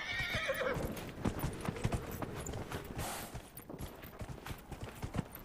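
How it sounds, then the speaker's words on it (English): Horse hooves clip-clop at a gallop with a whinny near the start in the video game Dragon Age Inquisition, steady rhythmic hoofbeats over a busy ambient game soundscape. "Nunca consigo ver de dónde viene el caballo."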